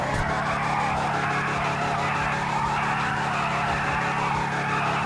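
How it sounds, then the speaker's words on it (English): A Declasse Impaler SZ drag-style car in GTA skids with a continuous loud tire squeal over a steady engine drone, unbroken from start to finish. "That engine note is a bit weak. I'd expect a lot more burble and bark from it."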